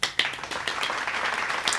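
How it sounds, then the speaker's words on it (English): Brief burst of clapping and applause in celebration of paying off debts, a dense patter of hand claps filling the short moment at steady moderate loudness. "give us a round of applause"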